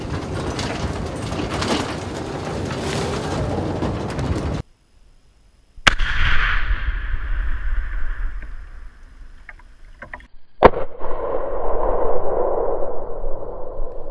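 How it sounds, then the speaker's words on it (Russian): Artillery shells detonated in a pit go off in a sharp, loud blast partway through, followed by a lingering rumble and a second cracking report, with outdoor noise before and after. "Разлет осколков от взрыва превысил более 100 метров."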